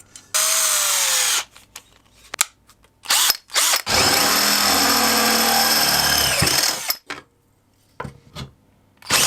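A power drill drives screws into the wooden frame of a modular nightstand, running in long, loud whirring bursts of a few seconds each, separated by short pauses and brief trigger blips, with no talk.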